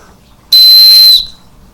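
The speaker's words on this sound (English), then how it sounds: "Also, for signaling, for rescue, you have a signal whistle." An aluminum signal whistle built into a Recon 6 watch gives one loud, sharp, high-pitched blast lasting under a second, heard alone.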